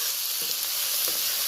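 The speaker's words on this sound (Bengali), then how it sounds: "রসুন থেতো করে রেখেছিলাম, রসুনটাও দিয়ে দিলাম।" Crushed garlic frying in hot oil in a pan over a high gas flame, a steady broadband sizzle with a few soft stirring clicks, close and continuous with no voices.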